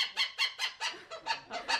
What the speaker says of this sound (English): We had owls and birds. Some of them were a bit noisier than others.